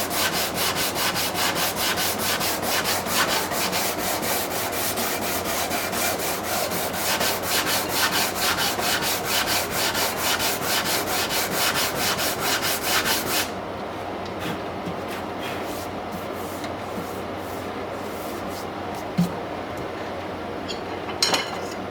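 Fretboard of a Martin HD-28 guitar being leveled with 100 grit sandpaper during a refret: close, steady rhythmic rasping strokes that stop abruptly, leaving quiet room sound with a few faint knocks.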